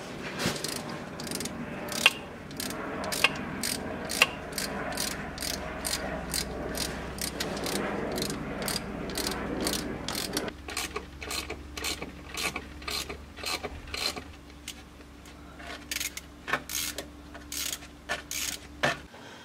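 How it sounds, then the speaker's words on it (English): Ratchet wrench tightening turbo bolts on a BMW 335i, heard as a long series of sharp clicking ratchet strokes in bursts, close and moderately loud over a low mechanical hum. "now I think we're ready to tighten down these bolts"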